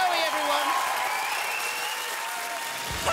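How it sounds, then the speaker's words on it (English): A studio audience at a UK comedy hypnosis show applauds for Joey Essex and Carl Fogarty after their dance-off; the dense, even clapping runs throughout, with tonal cheering or music layered on top. "Would you please give them a huge round of applause?"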